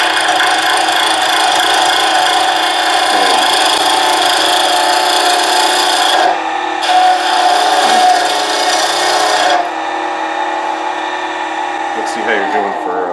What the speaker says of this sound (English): now if you can also use this chisel on the side, so you can put it here